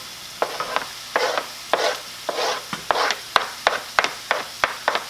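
Bologna frying in a pan as a utensil scrapes and stirs in quick repeated strokes, with a faint sizzle underneath.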